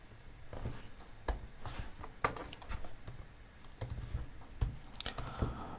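Typing on a computer keyboard at a Windows PC while entering a ping command, with irregular bursts of soft key clicks and a few sharper taps spread over several seconds, fairly close and quiet, no voices.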